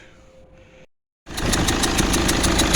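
A 2009 Mercedes C220 CDI diesel with a repaired injector bolt thread goes quiet, then cranks and fires, settling into a loud, steady running note with a rhythmic clatter.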